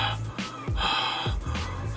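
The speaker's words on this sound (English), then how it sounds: "Breathing through your nose is a very key component" Heavy breaths drawn in and pushed out through the nose, close and fairly loud, in a few strong pulses with no talking.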